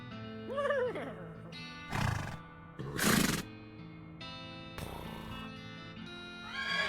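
A horse in the video game West of Loathing gives a short whinny early on, followed by bursts of game sound effects and a sustained musical tone underneath.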